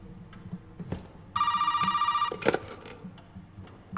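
A telephone in the main hall of Resident Evil 7 rings once with a buzzing electric trill of rapid pulses for about a second. It sits in a quiet room with low rumble and a few faint knocks.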